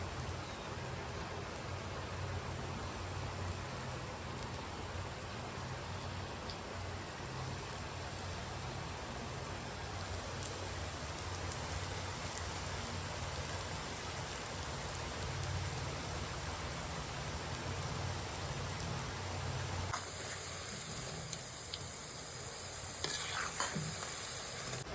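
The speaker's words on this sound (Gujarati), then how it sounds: "હવે તેલ આવે એટલે આપણે તળી નાખીએ." Manchurian balls deep-frying in hot oil: a dense, even, rain-like sizzle and crackle throughout, fairly faint and steady, with a few clinks of a utensil near the end.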